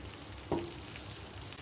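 Nihari is sautéed in a pressure cooker, giving a soft, steady frying sizzle with one brief knock of the stirring utensil early on.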